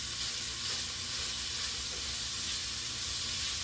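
Chipped beef frying in a pan gives a steady, even sizzle at close range, a continuous crackling hiss with no voices.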